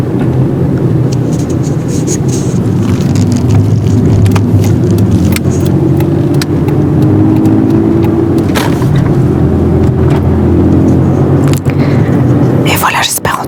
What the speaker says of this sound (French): Il y a une voiture de temps en temps.